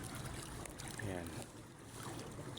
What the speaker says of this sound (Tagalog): So lakas ang hangin.